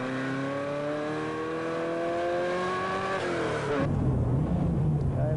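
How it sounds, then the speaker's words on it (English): A racing car on a wet track sends out a loud, steady engine whine that climbs in pitch while its wheels spin coming out of a slippery corner, then drops into a rougher, lower roar. "Another little bit of wheel spin."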